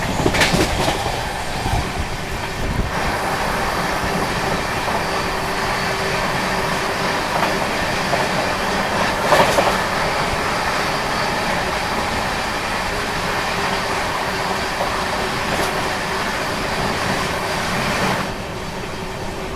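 The Bhagat Ki Kothi Express rolls along the tracks, heard from inside a first AC coach as a loud, continuous rumble with rhythmic wheel clatter and occasional faint squeal, unbroken by voices.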